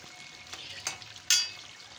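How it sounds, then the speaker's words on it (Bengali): Chicken meat being slowly stir-fried for kosha in a pan gives a soft, steady sizzle, broken by a few scraping strokes of the spatula, the last one louder and sharper. "এখানে মাংস কষাচ্ছি"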